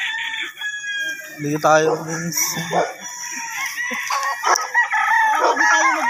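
Roosters crowing around an area full of chickens, with several loud, drawn-out cock-a-doodle-doo calls overlapping alongside clucking, while people talk nearby.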